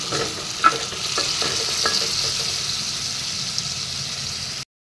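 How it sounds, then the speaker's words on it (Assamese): Fish sizzles and crackles steadily in a hot pan with a little water added, with a few sharp pops and stirring scrapes early on, close and fairly loud. "ভাজিব লাগিব"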